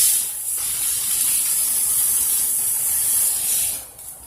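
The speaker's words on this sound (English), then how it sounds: "With a nice sear on there. Still sizzling." Loud, close hissing sizzle of a garlic steak searing in a hot pan, continuous and bright, fading out near the end.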